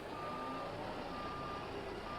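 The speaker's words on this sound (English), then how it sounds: "that actually is my reversing light. It does sound like a car alarm's going off." Reversing alarm on a Kenworth K100E truck in American Truck Simulator, a faint steady repeating beep over a low engine rumble, with no voices.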